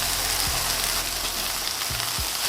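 Smash burger patties with onions and cheese slices fry on a hot griddle, a steady close sizzle running throughout with a few soft scraping knocks.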